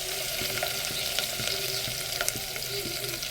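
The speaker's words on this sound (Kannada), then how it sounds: "ಬೆಳ್ಳುಳ್ಳಿ ಸ್ವಲ್ಪ ಫ್ರೈ ಆದ ಇನ್ನೂ ಟೇಸ್ಟ್ ಚೆನ್ನಾಗಿರುತ್ತೆ ಅಂತ ನಾನು ಬೆಳ್ಳುಳ್ಳಿ ಫಸ್ಟ್ ಆ್ಯಡ್ ಮಾಡ್ಕೊತೀನಿ" Garlic fries in about three tablespoons of oil in a pan, a steady close crackling sizzle with faint light stirring knocks, no talking.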